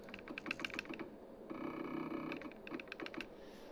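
Someone types on a computer keyboard in a workshop setting, quick close key clicks in irregular bursts with a short steadier stretch in the middle, quiet overall.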